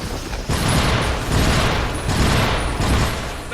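Trench combat in the war game Iron Brigade, heavy rattling machine gun fire in loud continuous bursts mixed with booming impacts, pulsing in waves over a few seconds.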